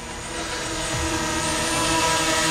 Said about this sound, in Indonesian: Yan po yung drone.